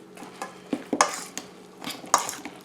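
Onions, salt and pepper being stirred into sliced potatoes for a potatoes au gratin, a few scraping, clattering stirs in a pan with bursts of utensil contact, close and moderately loud, with no talking.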